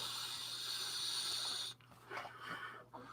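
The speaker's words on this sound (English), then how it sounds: "my wife was nice enough to lend me her vape while mine's charging" A long, steady airy hiss of exhaled vapor runs for over a second and cuts off, followed by a quieter breathy hiss.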